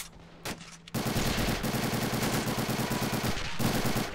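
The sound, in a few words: Browning Automatic Rifle (BAR) gunfire in a video game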